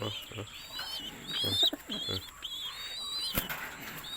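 Breeder pigeons coo and chirp in a loft, soft repeated calls close by, mixed with a person talking and some handling noise.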